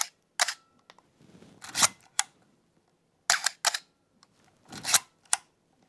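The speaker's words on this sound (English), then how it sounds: "if I click the shutter next to the microphone here now" Shutter of a Canon A1 film camera fired close up, sharp mechanical clicks in separated pairs and small clusters with silence between them.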